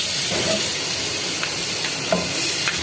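Onion and tomato puree goes into hot spiced masala for a dhaba-style egg gravy, producing a loud continuous sizzle and hiss with faint stirring scrapes, no voices over it.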